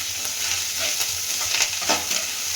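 Capsicum frying for chutney in a pan, a steady broadband sizzle with a few soft stirring scrapes, close and continuous, no voices.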